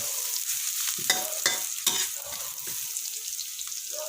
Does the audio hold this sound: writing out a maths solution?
no